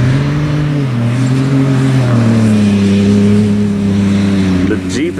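A Jeep and a Ford Raptor racing around a field, engines droning close and loud with shifting, rising and falling pitch, while people talk over the motor noise.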